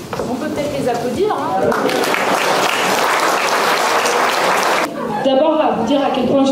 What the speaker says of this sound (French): On peut peut-être les applaudir.